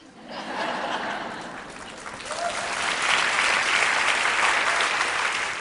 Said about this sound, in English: I wish that didn't get an applause